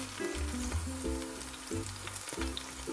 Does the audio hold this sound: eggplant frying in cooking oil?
yes